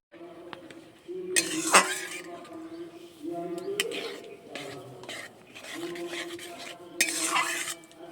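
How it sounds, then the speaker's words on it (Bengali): Semolina being stirred into warm water in a metal pot on a stove, with a spoon scraping and clinking against the pot in irregular close bursts and quieter pauses between them. "এখানে আমি সুজি দেব, আর এভাবে নেড়ে নেড়ে একটু মিশিয়ে নেব।"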